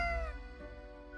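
A cat in the video game Death & Taxes gives one drawn-out meow with a falling, wavering pitch, clear and close over a low background hum.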